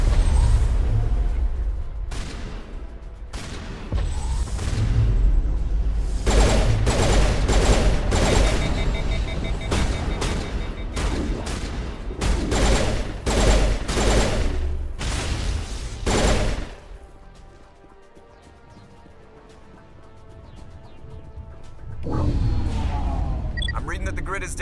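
Rapid bursts of pistol gunfire in Mass Effect, loud, close shots in quick clusters with booming impacts, briefly easing to a lull before firing resumes, while a player talks over the action.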